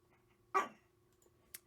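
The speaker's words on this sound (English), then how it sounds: "why are you barking at me?" A dog gives a single short bark indoors, fairly faint, followed a moment later by a tiny, softer yelp in an otherwise quiet room.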